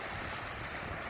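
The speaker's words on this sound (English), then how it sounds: "Look at those Z waves." Ocean waves at a beach, heard as a steady broadband wash of surf that may carry some wind rumble on the microphone. It lasts about a second, fairly loud and continuous, with no voices.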